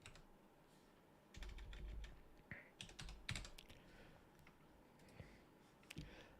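Computer keyboard typing in a quiet room, with bursts of quick, light key clicks in short clusters, fairly close and moderately loud against a low background hum.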